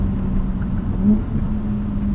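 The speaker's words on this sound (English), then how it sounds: "the noise that comes out the back of this car is loud. It's a loud car." BMW M3 exhaust note, a steady low droning rumble from the car's engine under acceleration, fairly close and continuous with a slight swell midway, no talk over it.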